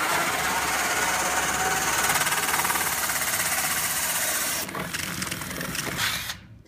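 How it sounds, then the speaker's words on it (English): A drill with a bit bores a 3-inch hole through the center of an IKEA table, producing a loud, steady grinding buzz that changes pitch near the end and then stops abruptly. "So I'm gonna put my drill bit right here on the center,"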